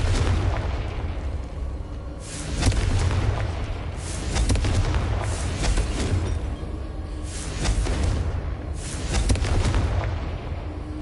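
Confringo fire spell explosions in the video game Hogwarts Legacy: a string of loud booming blasts about every two seconds over a constant heavy rumble, close and forceful, with no speech.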